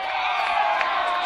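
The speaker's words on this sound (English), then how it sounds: "Crowd getting fired up." Crowd at a high school baseball playoff game cheering and whooping loudly, a dense sustained roar from the stands across the whole moment.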